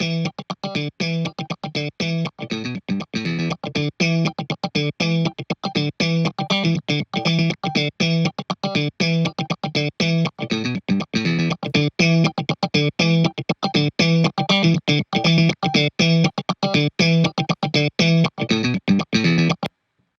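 Double-tracked instrument with a Haas-style stereo doubling effect, the wide image narrowed toward the center; a steady, dense, distorted rhythmic part plays continuously and loudly with no talking.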